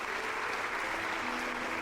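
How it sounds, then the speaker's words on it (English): Dense applause from a crowd in a game stream, a continuous even wash of many hands clapping, steady and moderately loud with a faint tonal hum beneath. "Got an applause for that."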